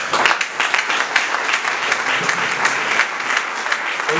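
Applause from a church congregation welcoming a female apostle to preach, dense and steady clapping that fills the room for the whole stretch, loud and continuous with no speech over it.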